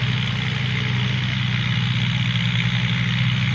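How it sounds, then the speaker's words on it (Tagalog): Kubota tractor engine plowing a field on a farm: a steady, droning low engine hum, constant and moderately loud throughout, with no talk. "umpisa na sa pagdaro. Kubota, lakas ng kubota."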